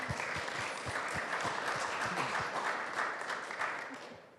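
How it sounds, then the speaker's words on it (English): Steady applause from a summit audience welcoming a company CEO onto a panel stage, a dense wash of clapping with a few closer distinct claps, fading slightly toward the end. "Please give him a round of applause"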